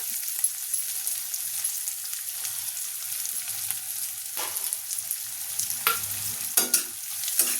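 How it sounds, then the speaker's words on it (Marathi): Finely chopped onion sautéing in a pan with garlic until reddish, giving a soft, steady hiss with occasional louder stirring scrapes near the end. "कांदा पण असा थोडासा लालसर होईपर्यंत छान असा परतवून घ्यायचा आहे"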